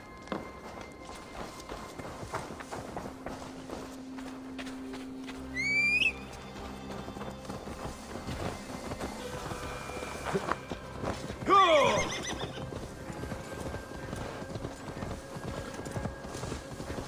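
A horse in Assassin's Creed Valhalla clip-clops along at a steady walking pace, giving two loud whinnies several seconds apart over continuous hoofbeats and faint ambient background.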